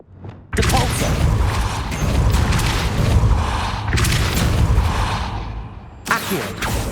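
Depulso force-push spell cast in the Hogwarts Legacy video game: a sudden loud whooshing rush that sustains with rumbling and mechanical clatter, breaks off briefly, then returns in a second and third burst.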